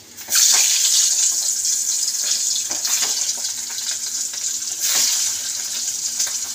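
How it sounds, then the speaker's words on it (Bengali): Eggs frying in hot oil for an egg curry give a loud, steady hiss with a few sharper bursts of crackle, close and without talk. "এবার ডিমগুলো ভেজে নেব"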